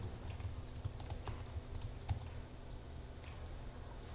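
Quiet, close typing on a computer keyboard, with irregular key clicks in a brief flurry that then fades over a low background hum.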